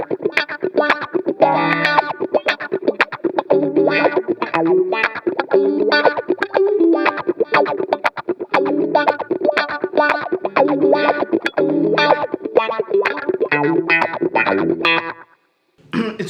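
Electric guitar at full volume played through a compressor and wah pedal, strummed in rapid funky chord stabs with a sweeping, vocal-like tone and steady rhythm that continues for most of the passage before a brief stop.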